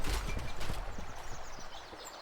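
Horses clip-clop in Stronghold Legends, a medieval strategy game, with a quick jumble of overlapping hoofbeats from several animals, close and fairly steady, plus a faint whinny.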